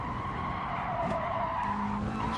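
A race car slides at Spa in GT Sport, tires squealing steadily over the constant engine note, close and continuous for a couple of seconds.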